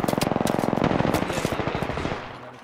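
Rapid sustained automatic fire from a Spitfire machine gun in the battle royale shooter Apex Legends, a dense, even stream of close, loud shots that slowly fades in level toward the end.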